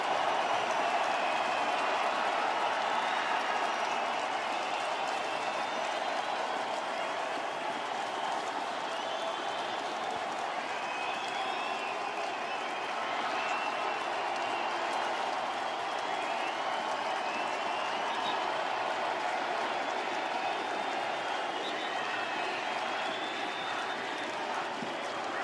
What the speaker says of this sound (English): Pat Shermer wanting to get Eli this well-deserved ovation